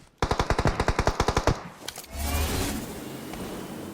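A rapid burst of about a dozen evenly spaced automatic gunshots rings out in PUBG Mobile, close and loud, and then cuts off. Scattered clatter and a low rumbling ambience follow.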